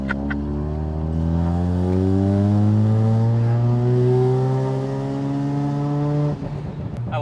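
A loud 460 hp Mazda RX-7 rotary engine revs up continuously, its pitch climbing steadily over several seconds before cutting off abruptly near the end.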